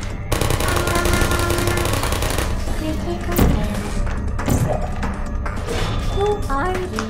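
Automated sentry turrets fire in bursts in the video game Portal, rapid mechanical gunfire crackling over a dense game soundtrack, with sharp thuds and impacts spread across the stretch.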